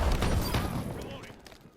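Gunfire from Call of Duty: Modern Warfare (2019), a dense burst of rapid shots and booms close by, fading over under two seconds, with voices mixed in.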